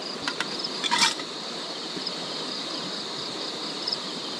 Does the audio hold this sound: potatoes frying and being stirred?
no